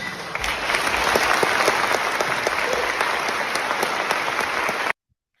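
Applause in a Geneva assembly hall after a resolution is adopted, a broad, sustained burst of clapping from many delegates that holds evenly for about five seconds and then cuts off abruptly.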